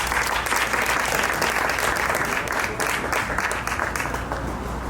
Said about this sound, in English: please give a nice warm welcome for